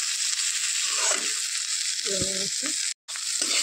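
Potato pieces frying in a pan while being stirred: a constant close sizzle with scraping stirs, briefly overlaid by a short voice, and a sudden cut near the end.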